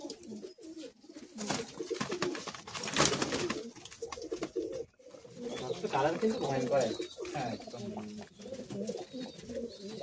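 Madrasi high flying pigeons coo and flutter in a Kolkata loft, with soft repeated cooing close by while people talk over and between the calls.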